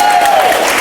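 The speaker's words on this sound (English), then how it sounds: "Give a round of applause, you guys." Audience applause at a vegan muscle panel event, a dense, loud burst of clapping filling the whole short moment.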